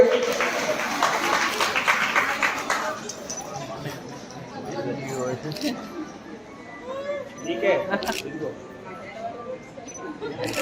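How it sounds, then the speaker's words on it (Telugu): Audience applause at a local public event in Nandyal district, a burst of clapping that fades after about three seconds, giving way to crowd chatter and a speaker's voice. "చప్పట్లు కొట్టండి ఒకసారి."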